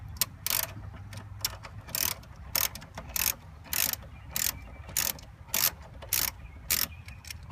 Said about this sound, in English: We're going to use a 14 millimeter socket,